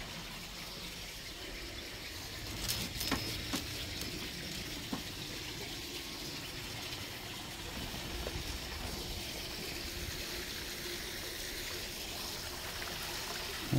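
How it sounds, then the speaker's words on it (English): A small waterfall on a house's screened porch patio trickles and splashes in a steady, continuous flow, close and even, with a couple of faint knocks in the background. "There's a little waterfall."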